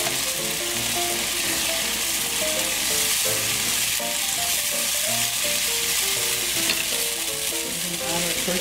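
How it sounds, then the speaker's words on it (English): Onions sautéing in a pan as liquid is added, a loud continuous sizzle and hiss with light stirring, while soft music plays underneath without any talking. "Let's add our liquid."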